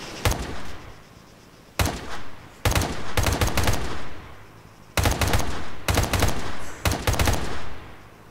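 Arma 3 M4 rifle mod firing in short clusters of sharp, close shots separated by pauses, several quick bursts in a row, loud and alone with no talk.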